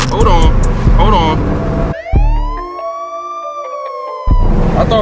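A police car siren wails loud and near in a city street, rising and holding its tone on its own after some brief chatter and traffic noise at the start.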